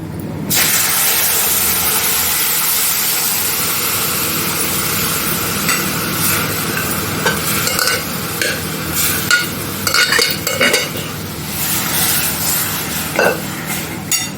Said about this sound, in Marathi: आता आपले उकडलेले उडीद आहे ते आपण फोडणीला द्यायचं